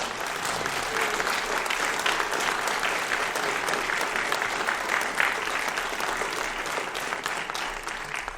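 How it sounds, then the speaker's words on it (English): A crowd at a county GOP sheriff's candidate forum claps for all the candidates, producing dense, sustained applause at an even level from start to finish. "Ladies and gentlemen, applause for all of our candidates,"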